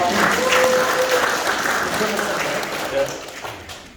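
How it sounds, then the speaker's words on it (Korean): Dense applause from an audience at the opening ceremony for a company's relocated and expanded Daegu-Gyeongbuk logistics center, loud and steady at first, then gradually thinning toward the end, with a brief tone and some voices mixed in. "큰 박수 부탁합니다."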